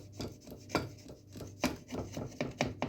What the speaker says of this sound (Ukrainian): просто ножиком ось прорізуємо трошки по краям